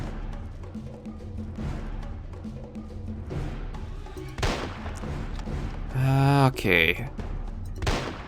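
Gunfire from hunting triceratops in the Jurassic Park Hunter Legends video game, several loud shots and booming blasts near the end over a low rumbling background, with a brief spoken word.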